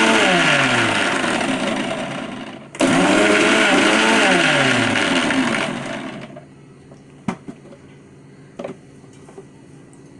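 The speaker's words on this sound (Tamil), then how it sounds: "நான் கொஞ்சம் கொஞ்சமாக போட்டு கிரைண்ட் பண்ண போகிறேன்" A kitchen blender grinds peanuts for a homemade milkshake, running loud and steady with rising and falling motor pitch, stopping briefly near three seconds, then restarting before cutting off around six seconds, followed by a few faint knocks.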